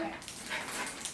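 A dog whimpers and yips softly amid muffled indoor noise, a brief whiny sound in a training setting.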